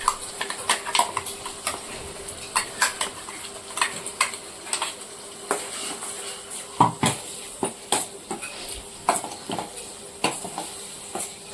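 Ground masala frying in oil for a sardine curry: a metal spoon knocks and scrapes the pan in irregular bursts over a soft, faint sizzle, with no talk.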